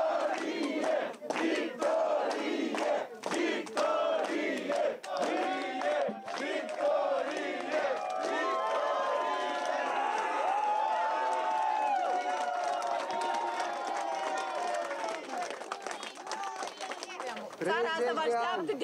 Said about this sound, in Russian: у офиса ПАС Майю Санду аплодисментами встречали ее сторонники